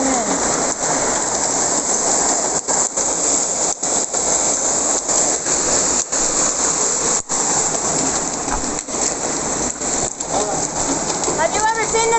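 Large hailstones pound down steadily during a hailstorm in Turkey, a loud, dense roar of impacts with sharp, heavier hits at irregular intervals and a few voices in the background.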